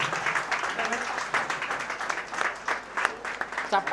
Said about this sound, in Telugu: చప్పట్లు ఎందుకో రేషన్లా కొడుతున్నారు కొంచెం